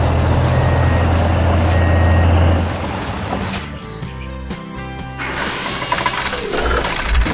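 Large truck carrying an excavator in a 3D animated construction scene, a loud continuous engine drone with mechanical ratcheting and clanking, steady and close with no talk.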